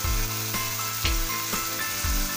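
A spice paste of coriander and cumin powder, poppy seed paste and green chilli is sautéed in a pan for Bengali-style mullu tangra fish, giving a steady close sizzle with regular dull knocks of stirring and no talking.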